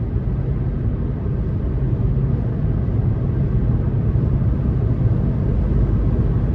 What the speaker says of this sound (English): I do feel like wind noise has picked up a little bit